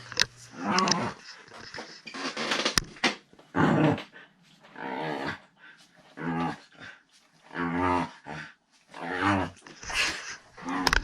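A dog growls in repeated rumbling bursts while playing with a person, close and fairly loud, with short gaps between the growls.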